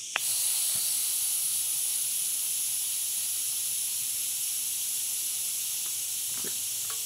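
Steady air hissing from a dirt-bike tire as pressure is let out during adjustment, a continuous close, even hiss running unbroken with a few faint clicks and no talking.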